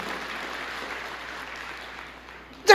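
A congregation at an Indonesian church sermon claps in a soft, steady, distant patter for a few seconds, ending in a sudden louder burst.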